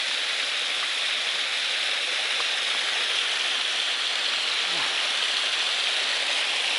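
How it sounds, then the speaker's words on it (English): A small waterfall on Stratton Mountain along the Appalachian Trail pours with a steady, even rush of water. The sound is close, constant and fills the whole stretch without pause, and no voices are heard. "Got a little mini waterfall there."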